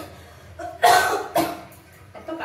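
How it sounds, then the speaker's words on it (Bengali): A person coughs while cooking a spicy fish curry with potato and papaya at home, with a few loud, harsh bursts close to the mic between quieter stretches of kitchen noise. "এত কাশি হচ্ছে এই ঝালের জন্য"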